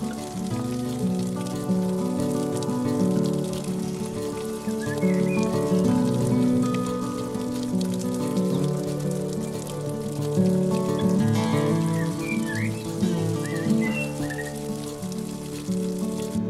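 Steady rain patters on a camp shelter beneath trees near the camp kitchen, continuous and fairly loud throughout, with faint bird chirps and a low background drone mixed in.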